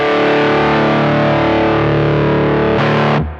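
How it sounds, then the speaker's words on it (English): Electric guitar run through a Fish Circuits Model One overdrive pedal, one loud sustained driven chord ringing, then a second strum near the end that cuts off abruptly. "this Model 1 from Fish Circuits is your ticket to natural overdrive tone paradise"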